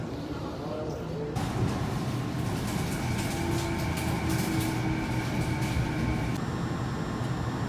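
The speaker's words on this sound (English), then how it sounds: "I just got off the SkyTrain" A Vancouver SkyTrain at Bridgeport station rumbles close and loud, its steady broadband roar swelling as the train moves through, with a sustained electric whine riding over the noise for several seconds before easing.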